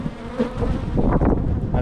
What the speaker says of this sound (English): Sorry, I've got bees trying to sting